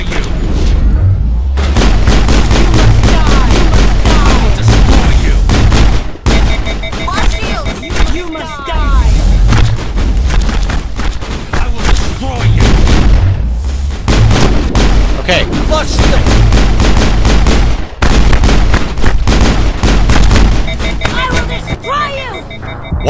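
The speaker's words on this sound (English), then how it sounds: "I shot her like 50 times, and she can just run around in circles, keep shooting me incessantly." Heavy gunfire in the Mass Effect video game fills the scene with rapid, loud bursts of shots and booming impacts, nearly continuous with brief pauses, while a voice speaks at times over the shooting.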